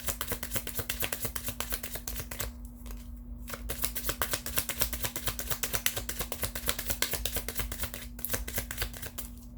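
Tarot cards are shuffled in a steady riffle of quick crisp flicks, close and fairly quiet, with two brief pauses and no talk.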